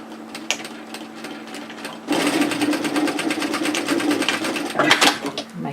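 A sewing machine stitches the folded ends of a woven fabric band for a kimono robe, starting with a few quiet clicks and then whirring in a loud, steady run of rapid needle strokes from close by.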